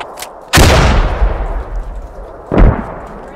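Two loud grenade blasts in the Squad military shooter, the first booming close by and decaying into a long rumbling tail, the second hitting two seconds later, with a faint crack just before.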